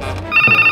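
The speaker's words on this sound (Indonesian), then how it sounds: "Oh syukurlah, diselamatkan oleh dering telepon." A telephone rings loud and close with a bright electronic ringtone that pulses in quick, even beeps after a brief lower lead-in.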